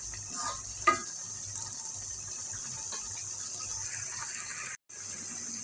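Broth poured into a pan of spiced baim fish being cooked with tomato, a steady soft pouring and sizzling wash with a brief clink near the start.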